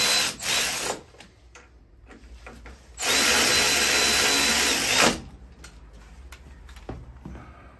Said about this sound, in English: Don't use power tools from the beginning, just when the threads are already engaged.